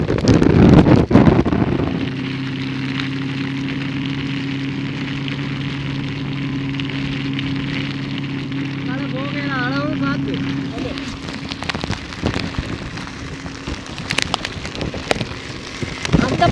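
Strong wind and heavy rain roar during floods in Sri Lanka, a dense steady wash of rain on surfaces with gusting noise, while someone talks over it near the start and a low hum drones through.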